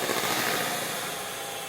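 A hand mixer whirs steadily through softened cream cheese in a bowl, a loud, even motor buzz close up for under two seconds with no voices.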